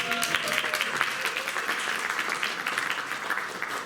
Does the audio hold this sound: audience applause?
yes